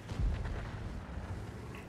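A single distant artillery shot in a tank video game sounds as a muffled low boom, faint and far off, followed by a short fading rumble.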